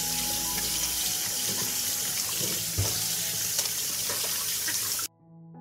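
Tap water runs steadily into a sink while fresh tomatoes are washed, a constant splashing hiss with small clinks, cutting off abruptly near the end.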